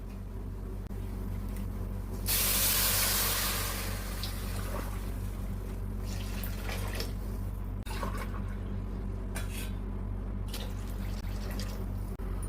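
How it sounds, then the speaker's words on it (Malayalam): Boiling water is poured onto Jeerakasala rice for Thalassery chicken biryani, a steady liquid rush that swells briefly near the start, then settles into a softer continuous trickle and bubbling with small drips and clinks. "അതുകൊണ്ടാണ് നമ്മൾ ചൂട് വെള്ളം, തിളച്ച വെള്ളം തന്നെ ഒഴിക്കുന്നത്"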